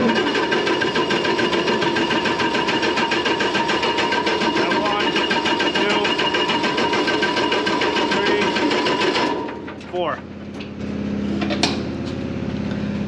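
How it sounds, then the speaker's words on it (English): A tug's fuel-injected engine cranks with its injector lines cracked open to bleed air, a fast, even mechanical churning for about nine seconds before stopping, followed by a few quieter clanks. "once they start squirting fuel out, you close them off and the engine should start"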